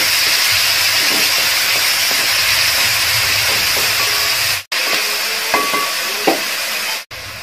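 Kerala-style egg roast masala sautés in hot oil with a loud, steady hiss and sizzle and occasional stirring clinks, heard up close and broken by two abrupt cuts near the end.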